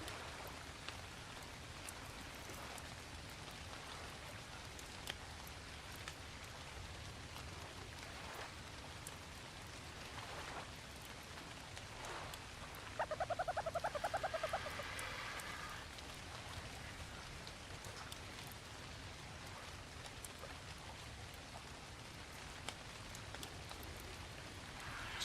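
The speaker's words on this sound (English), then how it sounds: "It started raining, of course." Steady rainfall in the video game ARK: Survival Ascended, a dense even hiss of drops that continues unbroken for the whole stretch, with a brief faint chime partway through.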